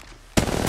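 Automatic weapon fire in the battle royale shooter Apex Legends erupts abruptly after a short lull, a loud, rapid burst that continues to the end.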